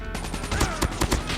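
A short, fast burst of machine-gun fire from the mobile shooter Call of Duty Mobile: a quick string of sharp rounds over about a second and a half, moderately loud.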